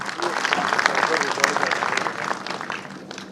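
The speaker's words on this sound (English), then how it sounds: "Please give a resounding applause to Rajkumar Kamp." Audience applause fills a hall at an inaugural tech summit in Goa, a dense, steady patter of many hands at moderate loudness, with a voice faintly present underneath.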